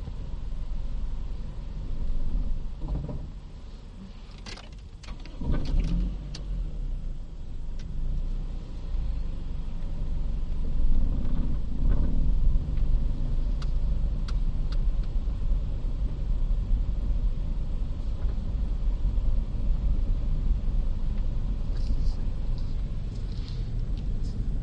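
A car idles and rolls slowly through a parking practice maneuver, a low steady engine rumble close by with a few brief clicks and knocks, no talk.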